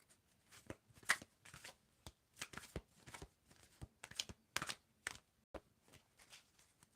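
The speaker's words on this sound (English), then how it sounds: "Tell me when to stop shuffling." Tarot cards being shuffled by hand in a series of soft, crisp riffling and slapping bursts with short pauses between them, close and quiet, with no talking.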